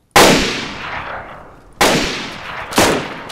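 Three sharp gunshots ring out close and loud in DayZ, each followed by a long reverberant tail, the first standing alone and the last two coming about a second apart.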